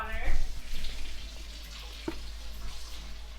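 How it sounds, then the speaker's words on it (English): Cold tap water running into a pot of dried Great Northern beans, a steady broadband rush that swells loudest in the first second and then settles into a softer, continuous pour, close to the listener. "we are gonna fill them up with cold water"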